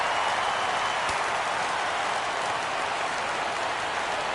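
A crowd in a PS4 baseball video game rises and cheers for a full count. The roar is a steady, broad wash of noise that holds level throughout, with no commentary over it.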